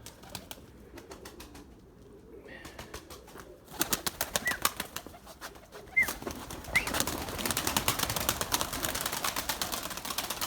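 Erzurum white pigeons flap their wings in bursts of rapid fluttering close by, mixed with soft coos and bird calls, with no one speaking.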